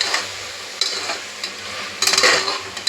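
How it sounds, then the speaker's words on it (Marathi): Green peas and carrots stir-fry in a pan with a constant sizzle, broken by close scraping strokes of a spatula and a busier burst of stirring near the end. "हा वाटाणा आणि हे गाजर चांगले मस्त असे फ्राय करून घेऊ"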